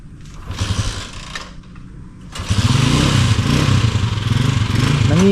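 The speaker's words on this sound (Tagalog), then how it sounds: "Ano nga ang problema ng motor na yan?" A motorcycle engine with a fault idles with an uneven, rattly putter, then swells into a louder, sustained rough running that holds to the end.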